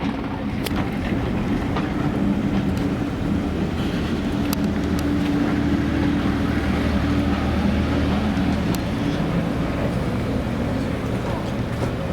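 Onboard a Spa Valley Railway heritage train, a steady loud rumble of wheels runs unbroken, with a faint clickety-clack over the rails and occasional soft voices beneath.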